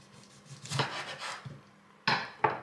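A knife slices the top off a tomato for Greek yemista stuffed vegetables, giving soft scraping and crunching rustles followed by two sharp knocks on a board near the end.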